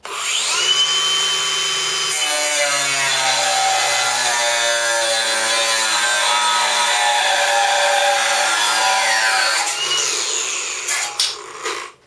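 Ryobi cordless angle grinder cutting off an end, a loud, close, high whine that bites in and holds steady for several seconds before spinning down, with no talk.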